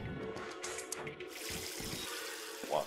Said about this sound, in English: There's... Dihydrogen monoxide coming out of the faucet!